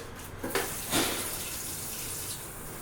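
Water runs steadily from a tap into a sink in a deli kitchen, a continuous close hiss with a couple of brief splashy surges, no voices.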